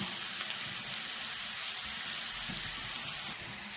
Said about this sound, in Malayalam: ഇഞ്ചി നമ്മൾ പ്രത്യേകം മൂക്കിച്ചെടുക്കുകയാണ്